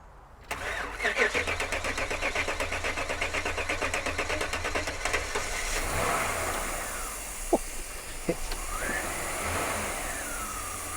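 An abandoned American police car with single-point fuel injection cranks with a quick rhythmic churn, then catches and settles into a steady running engine, close by, with a few knocks and brief talk over it.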